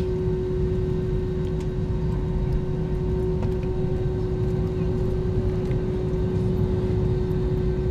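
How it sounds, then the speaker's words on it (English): An airplane taking off at the start of a vacation flight gives a loud, steady engine roar with a constant droning tone that fills the whole stretch without letting up. "No, that's that plane taking off."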